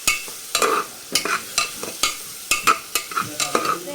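Long-sliced onions sautéing in a pan for a potato curry, stirred with a spoon in quick repeated scrapes and knocks over a soft sizzle, close and without talk.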